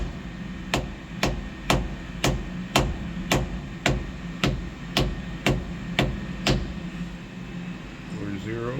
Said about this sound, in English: I've got hammer, and I'm going to tap it until I hit 0.